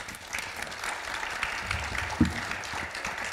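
Steady audience applause fills a hall at a congress of elected officials from towns and villages, a dense, even patter of many hands held at moderate distance for the whole stretch.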